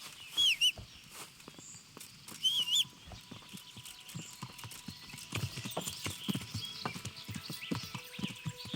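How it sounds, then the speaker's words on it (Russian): Horse hooves clip-clop at a walking pace in the video game Kingdom Come: Deliverance, a steady close rhythm of hoof strikes with a couple of rooster or chicken calls early on and no talk. "Сраная лошадь, которая идет пешочком."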